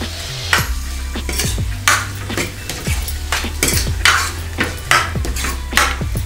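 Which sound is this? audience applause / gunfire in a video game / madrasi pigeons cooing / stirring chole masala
stirring chole masala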